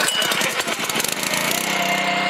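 Small gas engine on a GX50 LFP high-pressure ammonia stabilizer injector, pull-started, sputters into a loud, steady close running drone with a rattling mechanical buzz; no talk over it.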